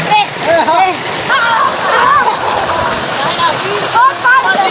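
Water splashes and sloshes in a village swimming pool in Pakistan, a steady wet churn close to the microphone with children's voices and shouts over it.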